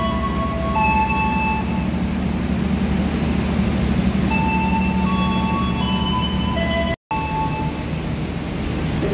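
A train moves through an Indonesian railway station with a steady low rumble and rolling drone, tonal squeals and whistles drifting above it and a brief dropout near the end.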